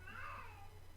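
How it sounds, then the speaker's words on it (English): A pet cat gives a single drawn-out meow, faint and somewhat distant, over a low steady hum in a room. "I wonder if they can hear the cat."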